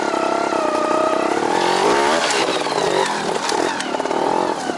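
Trials motorcycle revving while riding through mud, the engine rising and falling in quick throttle blips close by, loud and alone without talk.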